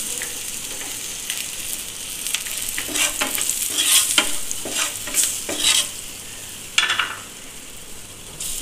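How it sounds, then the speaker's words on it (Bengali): Chili powder, turmeric and salt being stirred and fried in oil for a hilsa curry with nigella seeds and green chillies, a constant sizzle with repeated scraping spatula strokes and a sharp clatter near the end. "এখন মশলাগুলো একটু নেড়ে চেড়ে ভেজে নেব।"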